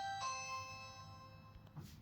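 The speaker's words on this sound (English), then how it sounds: "there's a freaking doorbell ringing" A doorbell chimes indoors, a bright ding-dong tone with sustained ringing overtones that fade over about two seconds, fairly faint and heard alone.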